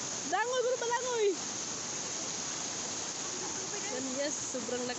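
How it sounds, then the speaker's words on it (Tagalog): A strong rushing river roars steadily and close by during eel fishing, a dense broadband wash, while a person shouts over it briefly at the start and again toward the end. "sobrang lakas ng tubig"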